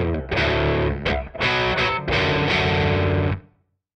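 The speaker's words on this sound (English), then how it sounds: "Played together, the opening sequence sounds like this." An electric guitar plays an opening riff with a distorted, effects-heavy tone, several strummed chords in a choppy rhythm, loud and close, ringing before cutting off to silence.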